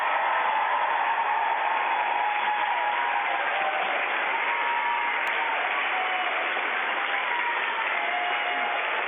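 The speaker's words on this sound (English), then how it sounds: "Guys, I think Tim deserves a big cheer." Students and teachers applauding and cheering for a British astronaut during a call from space, a dense, continuous roar of clapping heard through a narrow, band-limited link, steady from start to finish.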